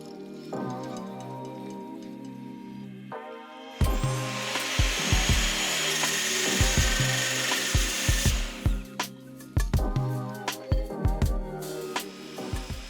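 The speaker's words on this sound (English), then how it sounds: "The LM guide bar was cut using a high-speed cutter." A high-speed cutter slices through a steel LM guide bar while a table saw front wing is being built. A steady motor whine gives way to several seconds of loud, harsh grinding, followed by scattered knocks and clanks.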